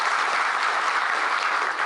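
Audience clapping at a herbal medicine workshop held at Hemvati Nandan Bahuguna university centre, a dense, loud and even roar of many hands that carries through the whole short stretch without a break.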